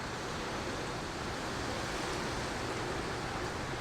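Steady rushing, sloshing water noise, continuous and fairly loud throughout, as water swirls around in a shallow gold pan while panning sluice concentrates.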